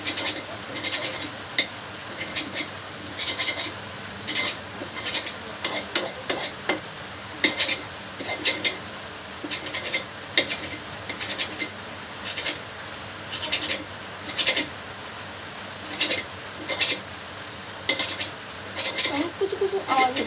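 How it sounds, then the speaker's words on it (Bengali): Food is beaten and scrambled in a pan, with a utensil scraping and clattering against the metal in quick, repeated strokes over a faint sizzle. The sound is close and continuous, and no one speaks. "এবার আমি এটাকে ফাটিয়ে নেব, ফেটিয়ে নেব, স্ক্রাম্বল করে নেব।"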